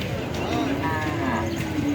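Cattle lowing at a busy Bangladeshi cattle market, a steady drawn-out moo rising over continuous crowd murmur and nearby chatter, close and fairly loud through the whole stretch.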